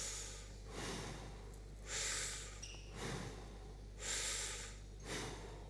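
Three slow, deep breaths from a person standing in a neck stretch with chin to chest, each a broad airy swell of inhale and exhale spaced about two seconds apart, close and fairly quiet with no talk.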